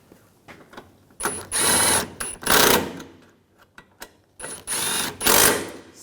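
A ratchet tightens the bumper bolts on a 2011-2018 Volkswagen Jetta during a front impact absorber replacement, with two loud bursts of rapid clicking separated by a quieter pause, close by.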